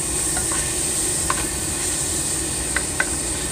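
Meat filling for a shepherd's or cottage pie fries in a pan with a steady close hiss and sizzle, broken by a few light scrapes and taps as it is stirred around.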